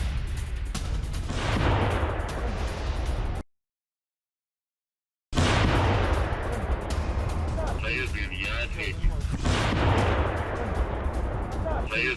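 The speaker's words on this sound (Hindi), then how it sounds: "जहां अजोव यूनिट पर रूसी बमबारी हुई।" A Russian bombardment strikes an Azov unit, captured on a soldier's body camera as heavy booming blasts and bursts of gunfire. The noise is loud and chaotic, with a sudden dropout partway through and shouting voices mixed in.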